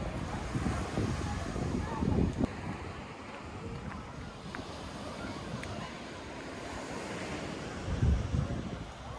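Ocean surf rolls in below a long pier in Pensacola, Florida, a continuous wash of waves with wind buffeting the microphone and a couple of louder surges.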